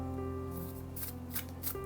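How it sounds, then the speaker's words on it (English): A brand-new Japanese tarot deck with indigo-gilded edges is shuffled for the first time, giving soft papery riffles and flicks under a steady tonal background hum. "I'm going to shuffle this for the first time now with the indigo edges"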